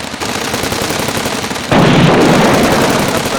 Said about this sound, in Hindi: कुछ गुंडे अपने गन से गोलियां चलाने लगे।